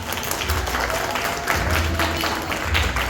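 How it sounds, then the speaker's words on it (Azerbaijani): A 6C school class claps for themselves in a sustained burst of applause from many hands, steady and fairly close for the whole stretch. "Gəlin bir əvvəlcə özümüzə alqışlayaq."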